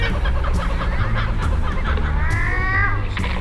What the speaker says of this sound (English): Kookaburra up there, look on the right.